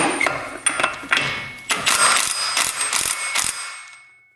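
A ratchet wrench works a bolt on a CFMOTO UTV, producing a close run of rapid metallic clicks and clatters in short bursts that stop abruptly, with no voices.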